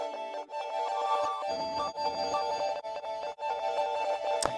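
A halftime, pitched-up bell melody processed through a Portal effect plugin for an ambient beat, with quiet, shimmering, sustained tones in a steady sequence and no other sounds.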